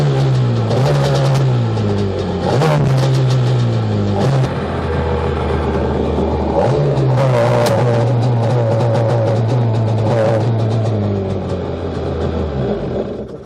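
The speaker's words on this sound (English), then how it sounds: "It's hitting the rev limiter." A 1996 Sea-Doo GTX personal watercraft engine, which has an electrical fault, revs hard and repeatedly slams into its rev limiter. It gives a loud, stuttering, clattering roar with sharp surges and drops, and no one talks over it.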